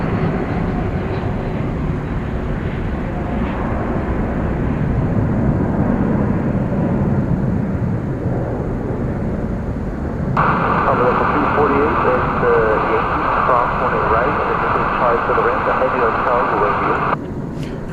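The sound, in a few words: Flight 7 to Brisbane airliner departing DFW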